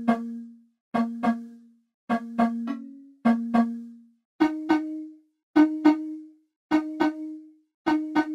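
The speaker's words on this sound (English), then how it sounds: "which is this sort of hollow, light log drum sample" Hollow, light log drum sample plays a repeating syncopated pattern of short wooden tonal hits in pairs and triplets, stepping up in pitch halfway through, clean and dry with no other sounds.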